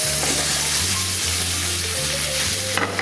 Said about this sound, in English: That is exactly the sizzle I'm looking for.